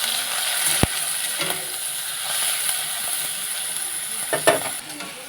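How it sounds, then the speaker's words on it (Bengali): Shrimp seasoned with salt and turmeric fry in hot oil, a constant hiss and sizzle broken by a few sharp clacks and scrapes of a utensil as they are stirred. "চিংড়ি মাছ ভাজা হয়ে এসেছে"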